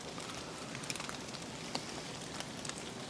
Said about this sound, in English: Now it is raining a little bit out here